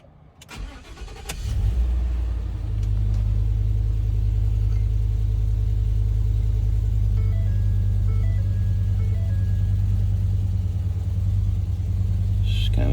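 Ford Coyote 5.0 V8 cranks over and catches, then runs at a steady, loud, rough idle with an uneven shaking pulse from misfiring cylinders.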